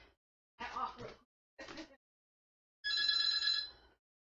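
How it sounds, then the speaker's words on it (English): A bell-like classic telephone ring in The Sims 4 bursts out near the end after a couple of short spoken phrases, fairly quiet overall. "Oh no, the phone is ringing."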